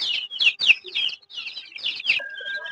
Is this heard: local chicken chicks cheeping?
yes